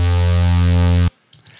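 A sustained synth note, boosted in the lows by a Logic EQ low-shelf filter at 100 Hz by 8 dB, rings out full and bass-heavy for about a second, then stops sharply, leaving faint room noise.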